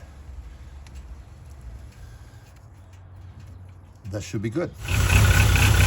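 A 1997 VW Cabrio Highline (Mk3) engine idles low and even after work on a vacuum check-valve hose. Someone speaks briefly over it, then a louder, closer rumble swells near the end.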